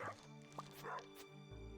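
A dog in Stardew Valley lets out a couple of quick, faint yips over game music, alone without talk.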